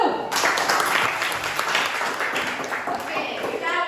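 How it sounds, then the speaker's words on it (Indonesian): A classroom of students bursts into applause, a dense, lively clapping that runs steadily at close range for several seconds, with voices mixed in. "Tepuk tangan dulu."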